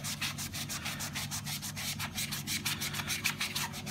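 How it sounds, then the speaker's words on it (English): A microfiber sponge scrubbing the chassis of a Bugaboo Bee stroller, giving a steady, quick back-and-forth rubbing swish in even strokes, close and fairly quiet, with no voices. "start rubbing it."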